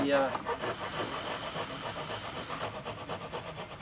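A Silky Hibiki ryoba Japanese pull saw cuts a notch into timber with steady, rhythmic rasping strokes, close and moderately loud throughout.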